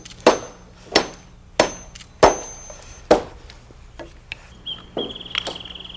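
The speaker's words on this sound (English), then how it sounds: "Nail in mid-span rafters and fill in between." Hammer blows driving nails into mid-span roof rafters during wood roof framing: five sharp, loud strikes at an uneven pace, followed by a few lighter taps and a high steady whine near the end.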